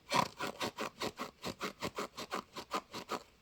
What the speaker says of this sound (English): It sounds like you're rubbing latex or something.